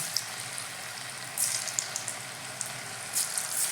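Chicken-free kebab pieces fry in hot oil with a soft, steady crackling sizzle and a few brighter spitting bursts, fairly quiet and alone.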